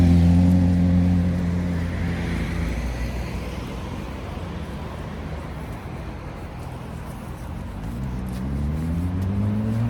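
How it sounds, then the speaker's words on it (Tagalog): Street traffic with cars and large provincial buses passing on a cold day, a steady roadway rumble with engines swelling as vehicles go by, near then fading, then building again. "Maraming sasakyan."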